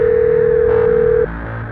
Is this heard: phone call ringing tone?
yes